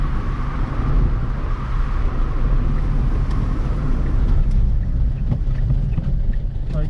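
A Volvo 340 running on a test drive after a steering rack replacement, a steady low rumble of engine and road noise with wind buffeting the microphone, continuous and even throughout.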